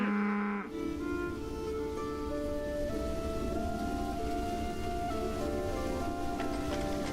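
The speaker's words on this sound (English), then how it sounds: "Sounds an awful lot like a cow, but it looks like a horse on the icon." A war beast creature in the strategy game Songs of Syx lets out a long, low cow-like moo with drawn-out tonal bellowing over a soft rain-like background hiss, fairly loud and close, with no talk.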